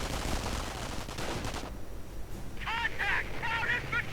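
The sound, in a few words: gunfire and sniper shots in a video game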